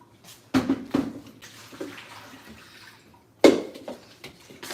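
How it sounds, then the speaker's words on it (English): Water is poured out of a bowl of washed yam in a kitchen: splashy gushes in two bursts with dripping between, close up and without talk. "Pour this water out."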